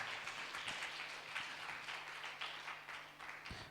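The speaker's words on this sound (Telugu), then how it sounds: "చప్పట్లు కొట్టి దేవుని మహిమపరుద్దాం." A church congregation claps during a worship service, a steady rapid patter of many hands at moderate distance, fairly soft and continuous throughout.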